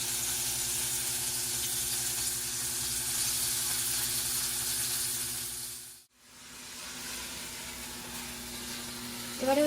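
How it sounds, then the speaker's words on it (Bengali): Chopped onion sizzling in hot oil in a kadai after bay leaf, dried red chilli and cumin, a steady loud hiss with a brief break near the middle, then resuming. "কড়াই গরম তেলে পেঁয়াজটা দিয়ে দিতে হবে।"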